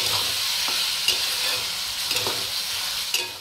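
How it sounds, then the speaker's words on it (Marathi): Finely chopped tomatoes fry in hot oil in a pan for paneer bhurji, giving a steady close sizzle with a few soft scraping stirs and no talking. "आता टोमॅटो टाकून घेते मी बारीक चिरलेला। ते सुद्धा चांगलं परतून घ्यायचंय।"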